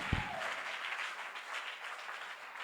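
Church congregation applauding together, a steady broadband wash of many hands clapping that holds at an even level throughout, with a brief low thump near the start.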